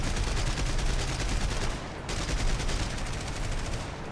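Rapid, dense cannon fire from a warplane in a flight combat game, a loud continuous roar of shots with a brief break midway before resuming.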